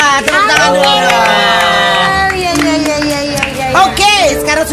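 Studio audience on an Indonesian TV variety show cheering and shouting loudly and continuously throughout, with excited children's voices prominent and some clapping mixed into the crowd noise.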